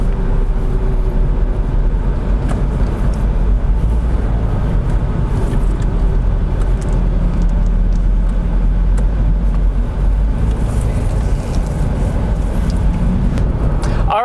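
A car driving through a residential neighbourhood in South Windsor, with steady close engine and road rumble throughout and no voices.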